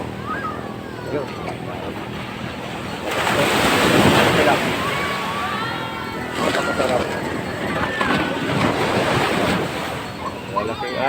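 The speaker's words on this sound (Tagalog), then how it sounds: "Malaking alon." Large waves crash and wash onto the shore in loud surges, with wind noise and people talking over the surf.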